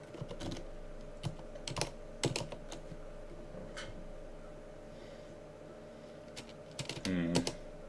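Faint computer keyboard typing with scattered short bursts of clicks and pauses between them, heard alone against a quiet room hum.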